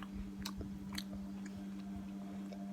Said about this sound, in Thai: เรากลัวร้อนมากทุกคนขอกินคำเล็กๆก่อนนะ